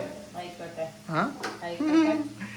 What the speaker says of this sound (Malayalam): ചെമ്മീൻ വറുത്തങ്ങടെ എടുക്കട്ടെ